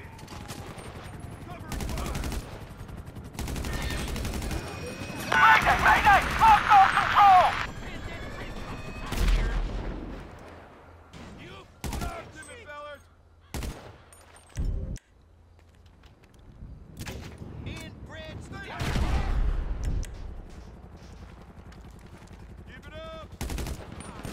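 Gunfire in a shootout, with repeated sharp shots and bursts of automatic fire scattered across the scene, some close and loud, others farther off, amid crashes and intermittent voices.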